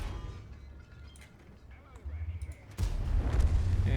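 A tank's ammunition rack detonating in World of Tanks: a sudden loud blast late in the clip, after muffled battle rumble and low booms, under game noise with some talk around it.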